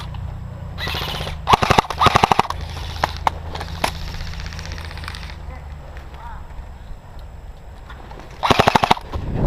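Airsoft guns fire in rapid bursts during an outdoor hillside game, with several loud clusters of quick shots early and again near the end, while a low engine-like hum runs underneath and players speak.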